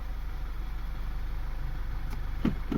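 A 2011 Audi A4 2.0T with a CVT transmission idles in a steady low hum, with a couple of soft clunks near the end as it shifts between gears. No one speaks.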